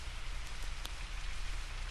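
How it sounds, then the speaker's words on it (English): Heavy rain pours steadily, a dense, even hiss of falling water that fills the whole stretch with no pauses. "It was raining hard"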